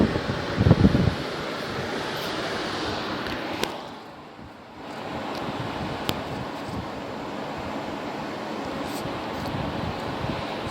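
Steady broadband whoosh of a Symphony 20-litre swing-model air cooler fan blowing air, continuous and fairly soft, with a brief dip in level midway and a few faint clicks.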